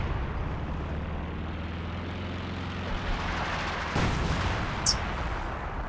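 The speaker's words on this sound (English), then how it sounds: "Then it just with the barrage of its lifetime, I guess, in this game" A World of Tanks artillery barrage: a continuous low rumbling battle bed with a sharp blast near the middle and a brief high whistle shortly after, no voices.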